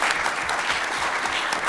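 A Baltimore audience applauds steadily to welcome Senator Elizabeth Warren at a forum on predatory financial practices, a dense, continuous clapping wash at even loudness from start to finish, with no voices standing out.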